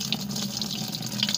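Wheat grains being rinsed in water, with a steady run of water splashing and sloshing throughout, close and continuous, no voices.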